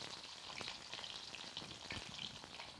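Meat frying in oil in a pan, a steady dense sizzle with crackling pops throughout, close and fairly loud, no voices.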